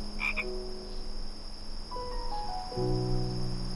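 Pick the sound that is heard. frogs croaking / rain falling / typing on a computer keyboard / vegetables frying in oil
frogs croaking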